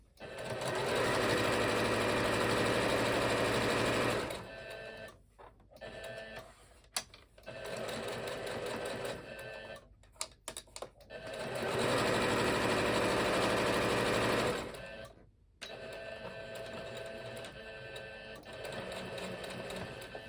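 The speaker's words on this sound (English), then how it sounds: "I'm trying to sew as close as to the edge as I can." A sewing machine stitches along the edge of a fabric coaster in long bursts of fast, rhythmic whirring, with brief pauses and quieter stretches between runs, loud and close.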